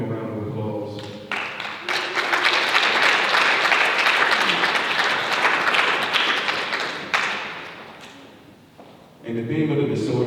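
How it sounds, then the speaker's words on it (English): Enthusiastic audience applause for an artist at an evening art exhibit, a loud sustained crowd clapping that swells after brief speech, fades gradually, and gives way to talking again. "give him a round of applause"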